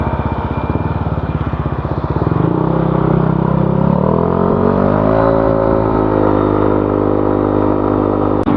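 An automatic scooter motorcycle pulls away after refuelling. A close, loud engine putters at idle, then revs up and settles into a steady accelerating drone as it rides off.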